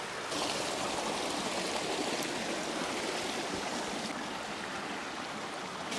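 A creek rushes steadily close by at an off-grid spot, the water running loud and unbroken with no voices over it.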